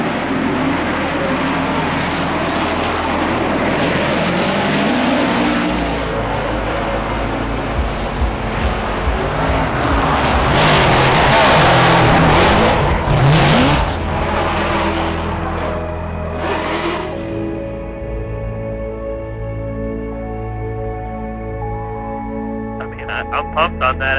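Drift cars out on track during Formula Drift practice: a loud, sustained engine roar with a broad rush that swells to a peak midway, then settles into steadier droning tones.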